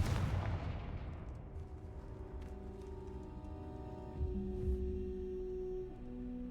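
In the video game Hogwarts Legacy, the Confringo blasting spell sets off a single booming explosion. The blast rolls away into a long decay, and quieter sustained game tones follow.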